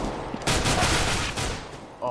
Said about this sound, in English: Oh, JT landing the headshot onto Chris Magnum in apartments